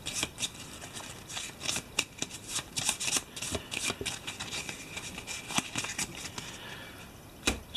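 Shuffling a deck of Eldritch Horror board game cards, a run of repeated close, crisp paper riffles and snaps in uneven bursts, fairly loud and without any voices.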